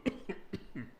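A person coughs three or four times in quick succession, close and fairly loud, each burst short and harsh with brief pauses between.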